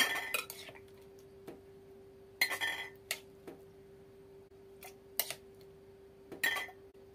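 A spoon clinks against six glass jars as chopped tomatoes are spooned into their bottoms: a few separate, bright clinks and taps spaced across several seconds, fairly quiet, with no talking.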